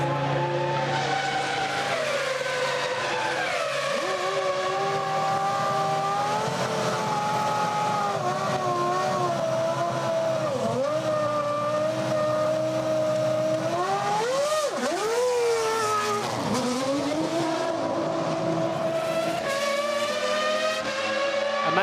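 A Ferrari Formula 1 car enters the pits at the 2001 Italian Grand Prix, its high-pitched engine droning loud and continuous, pitch dipping and rising sharply as it slows, shifts and revs.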